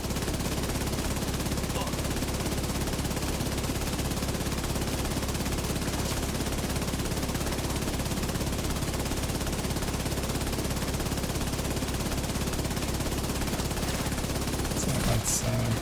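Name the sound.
continuous gunfire in a video game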